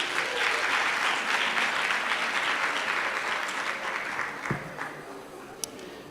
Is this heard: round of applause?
yes